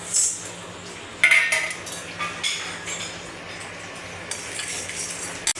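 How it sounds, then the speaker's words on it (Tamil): Red chillies and peanuts dry roasting in a pan with no oil, for mutton curry: a spoon scrapes and clinks against the metal pan over a faint, low sizzle, close and intermittent. "இப்போ நான் இப்போ இது எல்லாமே சேர்த்து ரோஸ்ட் பண்ண போகிறேன்"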